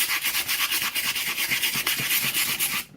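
Close, steady rhythmic scraping on painted wood of a model ice house, with repeated back-and-forth rasping strokes that stop abruptly at the end.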